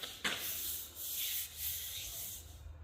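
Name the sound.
sander grinding off weld spatter on steel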